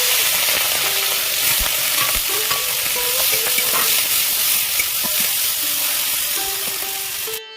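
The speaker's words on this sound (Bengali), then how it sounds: "তেল গরম হয়ে গেছে চিংড়ি মাছগুলো ভেজে নেবো" Prawns coated in salt and turmeric frying in hot oil, a loud, constant sizzle with repeated scraping and stirring from a utensil against the pan, close up and uninterrupted by speech.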